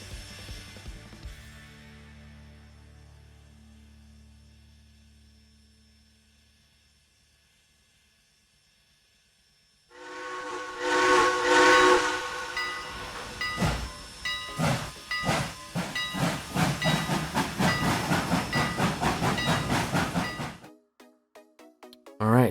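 In the Trainz 2019 game on the Brighton Branch, a sustained whistle tone fades out, then a shunting train shoves cars with loud pulsing hiss and rhythmic chuffing bursts before stopping abruptly.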